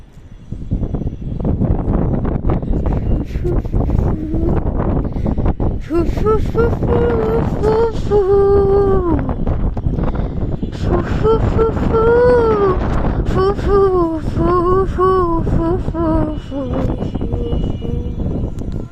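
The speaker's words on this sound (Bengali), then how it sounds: "বাতাস প্রচুর" Strong wind roars across a rooftop, buffeting the microphone with a loud, continuous rush while a voice talks over it.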